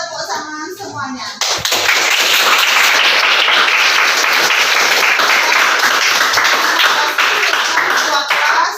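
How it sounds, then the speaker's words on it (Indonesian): After a brief spoken moment, a classroom of students breaks into loud, dense clapping that carries on steadily and close for several seconds. "mari kita tepuk tangan semuanya."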